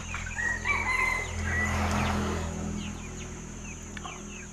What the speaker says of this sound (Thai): กินทุกอย่างไก่นี่ครับ